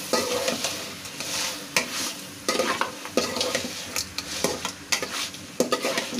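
A spoon works through chaltar (elephant apple) pickle dusted with coriander powder in a pan, scraping in repeated strokes over a soft sizzle. The clicks and scrapes come close and fairly loud.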